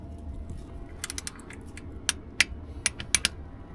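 A wrench tightens a bolt with a washer to 25 newton meters, producing a quick series of sharp metallic ratchet clicks, some close together, over faint background noise.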